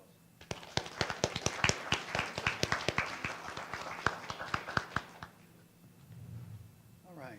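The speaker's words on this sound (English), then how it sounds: "Will you please give them a round of applause?" A small audience at a Republican primary debate in a high school applauds the candidates, a sparse, sharp patter of individual claps for about five seconds that then fades to quiet room noise.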